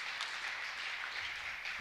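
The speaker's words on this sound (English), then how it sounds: "He draws great applause." Steady applause from spectators at a boys' high school swimming and diving meet, filling the pool hall at moderate level for a couple of seconds after a dive, with no voices over it.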